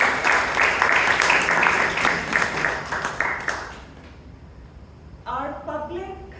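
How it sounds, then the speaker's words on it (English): Applause rises from the audience at a Toastmasters club meeting, many hands clapping loudly and then fading away, before a voice starts speaking. "So big round of applause for both of you."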